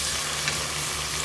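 Fresh mushrooms sauté in a pan for burger steak, a steady, dense sizzle that holds at an even level for a brief moment, with no talking.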